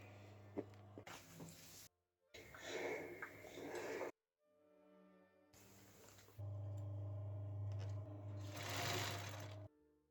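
A sewing machine runs in bursts, stitching upcycled tablecloth fabric for a garment sleeve. The close, steady whirring motor stops and starts several times, with a longer continuous run toward the end.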